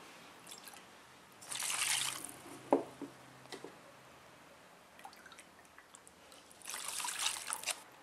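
Water poured into a ziploc bag already holding alcohol, with two bursts of trickling, splashing liquid a few seconds apart and small drips and knocks between them, close and fairly loud.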